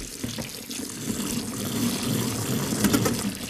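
Cold tap water runs steadily into a kitchen salad spinner, a continuous close, splashy gush that swells slightly toward the end, with no talking.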